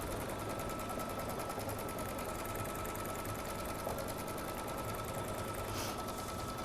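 An embroidery machine sews a tacking stitch around Christmas ornament designs twice to join them, a steady, rapid, close mechanical needle chatter that runs without a break and with no voices.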